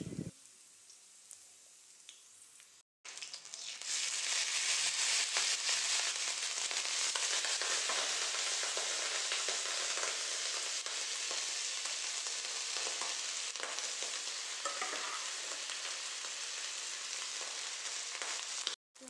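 Cashews and boiled rice frying in hot oil for vegetable fried rice, a loud dense sizzle that bursts in after a quiet start and holds steady close up until an abrupt stop.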